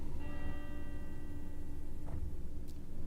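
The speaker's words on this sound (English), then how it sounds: "Oh, the bell's going." A bell ringing in the Fernbus Simulator bus-driving game, a steady sustained tone held for a couple of seconds over low engine rumble, fairly faint, with no talk.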